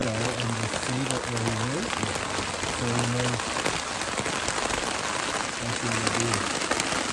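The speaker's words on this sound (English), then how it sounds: "It's raining." Steady rain falls on a surface at a hunting camp in the Rocky Mountains during a bighorn sheep hunt, a constant broadband patter through the whole stretch, with voices talking intermittently over it.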